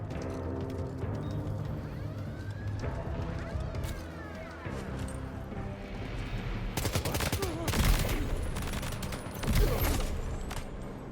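Gunfire from non-lethal rounds in the video game Death Stranding 2: bursts of rapid shots and impacts over busy game sound, with a louder cluster near the end, while a voice talks alongside.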